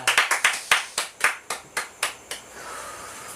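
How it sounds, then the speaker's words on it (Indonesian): A single person claps their hands about a dozen times in a quick, slightly uneven run during an Indonesian book-discussion talk show, the sharp claps close and distinct and then thinning out to quiet, with no talking. "Saya boleh tepuk tangan nggak nih?"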